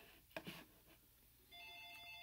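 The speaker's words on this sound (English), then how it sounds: "I'm just going to grab the phone, which you hear ringing in the background" A telephone rings faintly in the background at home. A short knock-like sound comes first, then an electronic ringing tone starts and holds steady at low level.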